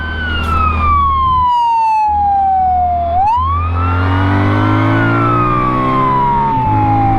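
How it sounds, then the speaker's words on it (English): A Honda ST1300PA police motorcycle sounds its siren at close range: a loud wail sweeps down, then rises and falls again over a steady engine hum. No one speaks. "Let's do some siren."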